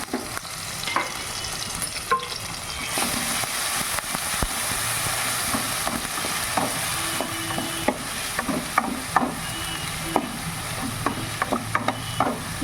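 Onion, garlic and ginger paste sizzles and fries in hot oil with steady spatula stirring, a continuous loud crackle broken by frequent scraping strokes against the pan.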